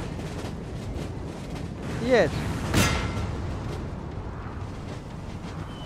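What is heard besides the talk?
cannon artillery fire in the video game Napoleon Total War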